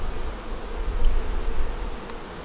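Honey bees buzz at a hive whose boxes are full of eggs and brood, a steady, dense hum close by with no voices.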